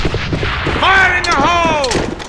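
Gunfire and explosion noise in the shooter video game AVA, loud close bursts mixed with a shouted voice over the din.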